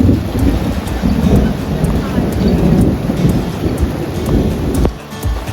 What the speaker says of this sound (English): and this downpour started